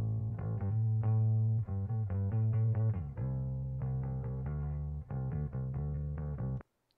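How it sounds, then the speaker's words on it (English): Bass guitar riff from a stock sound library, played alone in a series of plucked notes with short gaps between phrases, loud and steady for roughly six and a half seconds. "So that's what our bass guitar sounds like."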